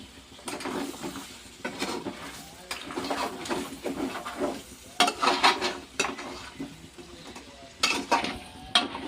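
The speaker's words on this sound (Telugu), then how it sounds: "సరిపడా వేస్తే కారం వేసి ఇలా మొత్తం కలుపుదాం." Chili powder stirred into a goat head and legs curry in a pot, repeated scraping and clattering stirs over a low sizzle, close and uneven in rhythm.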